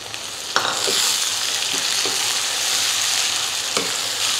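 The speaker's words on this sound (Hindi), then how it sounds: "अदरक लहसुन का पेस्ट डाल के ना थोड़ा सा हमने इसको ना फ्राई करना है" Ginger garlic paste and tomatoes fry in a pan with a loud, steady sizzle. A spoon scrapes and stirs it at intervals, with no voices.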